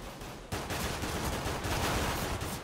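Rapid gunfire in a CS:GO match between NIP and ASD in London, a dense, loud stream of overlapping shots that starts abruptly after a brief quieter lead-in, heard alone without speech.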